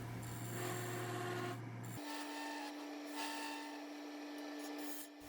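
A turning tool scraping across the bottom of a maple piece spinning on a lathe, a continuous rasping cut over the lathe's steady motor hum, which shifts pitch partway through, with no talking.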